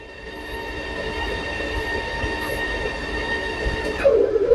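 A Sefaspe MIG135E welder running its wire feed at high speed gives a steady whirring motor drone with stacked tonal whines, holding even for about four seconds before a pitch drop and a louder mechanical rattle at the end.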